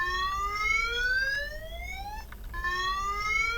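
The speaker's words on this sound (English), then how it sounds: "The alarm works as intended" A looping electronic alarm from a video game elevator rises in repeating sweeping tones, cutting out briefly mid-cycle before sounding again, loud and alone with no talk.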